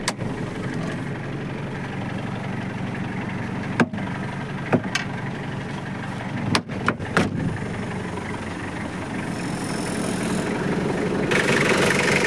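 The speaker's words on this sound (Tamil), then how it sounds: "வண்டி இன்ஜின் ஸ்டார்டிங்கில் இருக்குங்கண்ணா" A used Toyota Qualis sits running at idle, its engine holding a steady low rumble throughout, broken by a few sharp clicks and knocks, with a brighter hiss swelling near the end.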